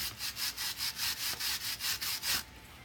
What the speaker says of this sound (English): So you want to brush it to get all the grease and all the dirt out.